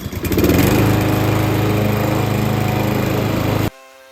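A lawn mower cuts grass on a customer's lawn during its first mow of the year. The engine drones loudly and steadily from close by, then cuts off abruptly near the end.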